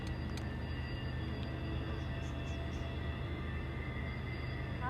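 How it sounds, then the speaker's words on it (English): A CPKC intermodal freight train, CP 105 or 109, passes on the north track at Matsqui, British Columbia, with a steady, continuous low rumble and rail noise that stays even throughout. "CP train 105 or 109 Intermodal train."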